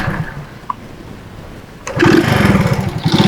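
A 1969 Honda S90 motorcycle, an old small bike, clicks quietly before its engine catches and starts partway through, settling into a loud, close, rapid buzzing idle.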